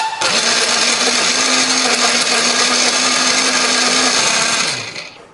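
Kitchen blender grinding turmeric, chili and coriander with a little water, a loud steady motor whir that runs continuously for several seconds, then winds down and stops.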